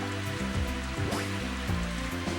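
Rain patters on the golf course in the Mario Golf video game, a soft steady wash with light game tones layered over it and no voices.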